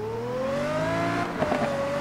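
A car engine in the racing game Need for Speed Rivals revs steadily upward in pitch, loud and close, with a brief rough crackle near the end.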